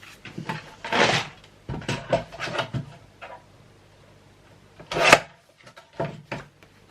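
Paper being cut for a botanical craft folio, with short rasping cuts and snips in irregular bursts, close and fairly quiet, separated by brief silences.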